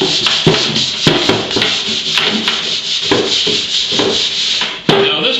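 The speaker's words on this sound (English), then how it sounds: "You can see how this surface is being abraded right here." A surface is sanded by hand in rapid, irregular back-and-forth strokes, giving a close, loud, continuous scratchy rubbing broken by small taps and shifts in pressure.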